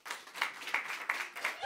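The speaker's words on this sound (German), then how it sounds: "Kurz mal klatschen." A small audience at a comedy show gives a brief burst of applause, a soft, somewhat distant patter of many hands clapping, with a faint voice mixed in.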